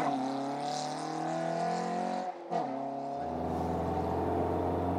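A Caterham Super Seven sports car engine revs loud and close with a harmonic tone, dips briefly, then roars back with a deeper, rougher note, no voices heard.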